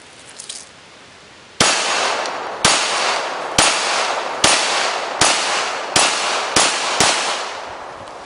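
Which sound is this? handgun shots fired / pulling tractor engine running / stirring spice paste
handgun shots fired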